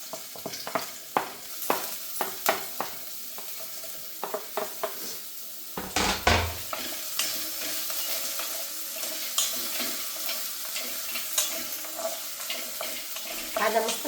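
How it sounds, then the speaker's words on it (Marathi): Onion frying in a pan on a griddle for pokala bhaji, sizzling steadily while a spoon scrapes and taps in quick repeated strokes, close and moderately loud, with no voices. "तर आता आपण कांदा टाकतोय त्यात."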